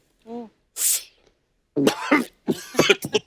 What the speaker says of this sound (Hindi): शुरू हो गया खांसना।